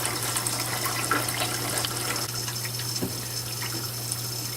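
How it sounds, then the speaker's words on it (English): Tap water runs steadily into a canning pot, a continuous near gush of running and splashing water with a low mains-like hum beneath and no voices. "You want to continue filling your canner with water until it reaches 2 inches, like I said, above the top of the jars."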